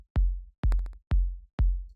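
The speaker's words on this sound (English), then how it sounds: "So the low end kick" Four deep, punchy electronic kick drum hits from an FL Studio melodic progressive house beat, evenly spaced and loud, each with a boomy low tail and a brief tick on one hit, alone with no other sounds.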